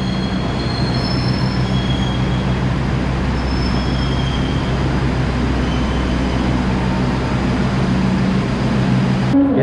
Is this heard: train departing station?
yes